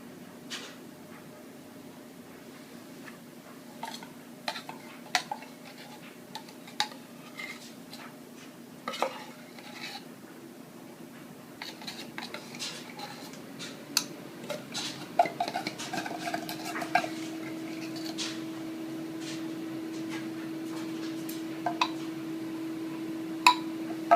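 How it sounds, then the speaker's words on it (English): A whole can of condensed milk goes into a bowl with evaporated milk for Cuban flan, then gets stirred, with a spoon clinking and scraping against the bowl in irregular taps and a low kitchen hum, nobody speaking. "We're going to add our whole can of condensed."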